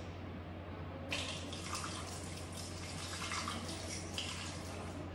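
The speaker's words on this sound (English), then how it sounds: "Now rinse this beaker content first." A laboratory beaker rinsed under a running tap, a steady close hiss of flowing water that starts abruptly and carries on with slight splashing variation, no talk.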